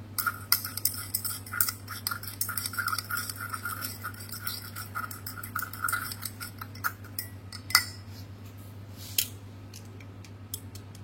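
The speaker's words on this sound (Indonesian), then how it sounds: "Kemudian kita aduk campuran tanah dengan aquades tadi." Soil stirred with distilled water in a glass container gives repeated scraping and clinking strokes over a steady low hum, with sharper taps near the end.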